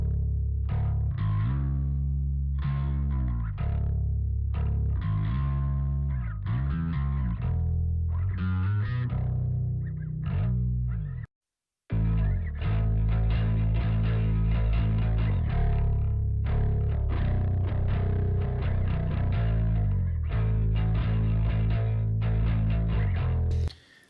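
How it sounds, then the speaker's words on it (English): Bass guitar tone from a song demo, heavy, distorted and effects-laden, with a steady stream of low notes and a short break around the middle before it resumes. "this is just the bass, again, this is just the bass sound from the demo"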